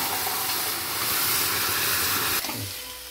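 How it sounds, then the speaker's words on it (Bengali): Marinated chicken goes into a hot, oil-free kadai with whole spices, producing a loud, steady, steamy hiss close by that cuts off abruptly near the end, leaving a softer sizzle. "এবার আমি চিকেনটা দিয়ে দিচ্ছি"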